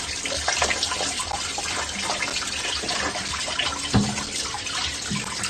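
Water running and splashing as a clogged kitchen sink drains into a bucket during unclogging, a steady broadband rush with one brief knock near the end, no talk.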